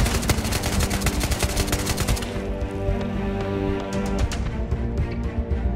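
Sustained gunfire in Ghost of Tabor rattles in fast repeated shots, dense at first and then thinning to scattered pops over a low droning background.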